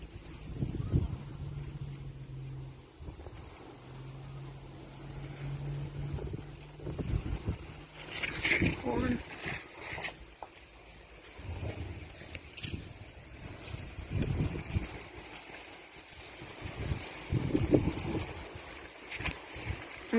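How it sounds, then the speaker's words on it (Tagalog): Strong wind buffets the microphone outdoors in a steady, gusty low rumble that lasts the whole twenty seconds. Brief clatters break through now and then, along with faint background voices. "Ang lakas ng hangin, guys."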